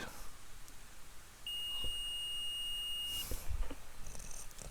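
A single steady high-pitched electronic beep from a multimeter in continuity buzzer mode while testing an HP laptop 45W AC adapter, lasting almost two seconds before cutting off, with faint handling noises around it.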